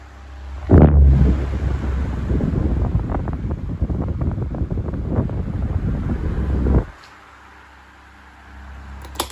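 12-inch desk fan running at speed, a loud whooshing rush of blown air buffeting close to the microphone for several seconds before it abruptly cuts to a quiet hum.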